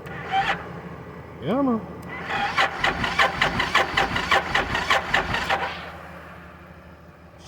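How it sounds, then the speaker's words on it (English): A car with a suspected bad starter solenoid, heard as a starter motor cranking in a fast rhythmic churn for several seconds after a couple of short attempts, close and loud, with a brief spoken remark before it. "I'm gonna give you guys a rev before I end this video"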